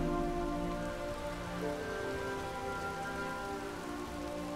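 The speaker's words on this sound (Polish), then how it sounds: "Zanosi się na deszcz." Rain falls in The Witcher 3 game world, a steady dense hiss of drops on surfaces with faint tonal game ambience beneath, continuous and unbroken with no talk.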